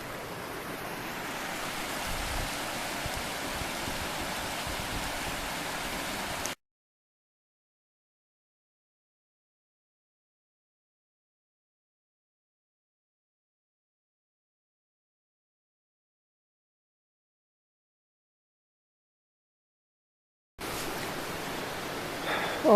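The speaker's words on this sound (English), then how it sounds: "And in the background, the sounds of Picosin Creek." Pocosin Creek in Shenandoah National Park flows in the background as a soft, steady wash of rushing water, heard faintly at the start and end with a long silent break between.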